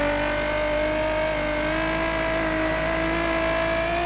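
Steady whiny engine drone of a car in The Crew, held at a constant revving pitch throughout, close and fairly loud, with no talking.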